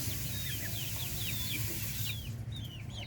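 Chickens, fed on saresa fruit at a farm, clucking repeatedly in short chirpy calls, fairly near and steady over a low background rumble.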